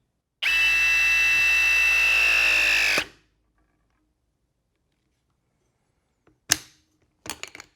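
A RIDGID RP 350 press tool presses a pipe fitting with a loud, steady motor whine for about two and a half seconds, then stops abruptly. After a pause come a few short mechanical clicks and knocks.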